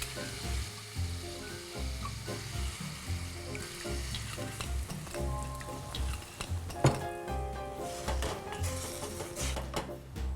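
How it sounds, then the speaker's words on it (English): Prawns in a hot pan sizzle and fry steadily as white wine is poured in, a continuous close crackle with occasional stirring clinks, and no one speaks. "Now I put a bit of white wine."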